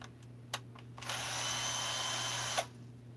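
Power tool whirring steadily for about a second and a half while a carburetor is pulled apart, preceded and followed by a few sharp clicks and knocks over a constant low hum, close and alone with no talking.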